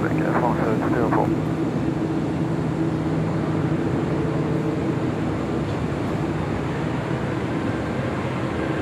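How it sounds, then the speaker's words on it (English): A Korean Air jet airliner takes off from runway 25 left at LAX, giving a loud, steady broadband engine roar that holds throughout, with a brief voice near the start. "Korean Air Flight 18, taking off on 25 left."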